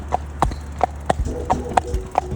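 Hooves of a horse being ridden along a trail clip-clop in a steady walking rhythm, about seven clear close strikes, with faint murmuring voices beneath.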